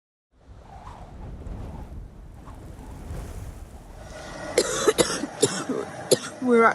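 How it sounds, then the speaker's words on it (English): After a stretch of quiet rumbling background, a person coughs several times in quick, harsh bursts close to the microphone. "We've both got awful coughs"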